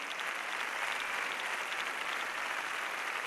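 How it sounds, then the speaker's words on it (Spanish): A theatre audience in Mérida giving a standing ovation, dense and continuous applause from a large crowd heard at a distance, steady and even throughout without any voices above it. "el público aplaude puesto en pie"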